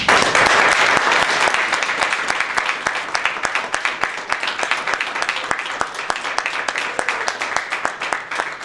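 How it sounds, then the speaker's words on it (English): A congregation applauds a newly ordained Gnostic priest in a loud, close burst of dense clapping that starts strong and keeps a busy, steady patter for several seconds. "Would you please give him a round of applause?"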